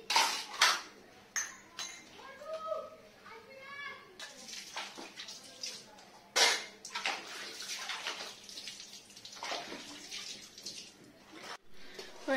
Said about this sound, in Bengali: এবারে যে বাসন মাজবো